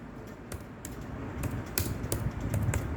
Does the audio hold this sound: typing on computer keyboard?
yes